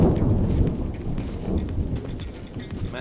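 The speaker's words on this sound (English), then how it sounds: "Man, that thunder do be loud." Loud thunder rumbles over steady rain in the game Unturned, a dense low roar with crackling rain on surfaces throughout, no voices present.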